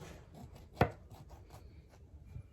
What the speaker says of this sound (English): Gotta have a little sharp knife. And we're gonna cut it.